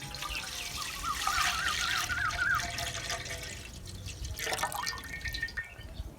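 Full cream milk, about 1.5 kg, pours steadily into a wok in a home kitchen for carrot kheer, a continuous trickling liquid stream heard close up with no talk over it.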